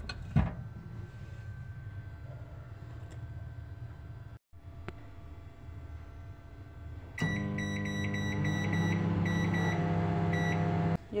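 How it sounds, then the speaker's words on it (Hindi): A steady low hum of a microwave oven cooking sweet potato, broken by a brief drop, then joined by a repeated series of electronic beeps over the continuing drone. "और अब इसको मैं माइक्रोवेव में 4 मिनट के"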